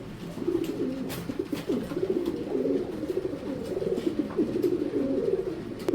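Racing pigeons in a cage give a steady run of close, throaty cooing that repeats in rolling phrases for several seconds, with light clicks and rustles in the background.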